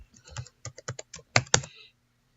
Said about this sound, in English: and then you type the password.